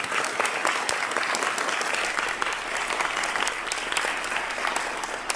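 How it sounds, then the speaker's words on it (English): An audience claps for Jan Fisher at a nonprofit-sector gathering, producing dense, continuous applause that stays steady and fairly loud throughout. "I think definitely deserves another round of applause"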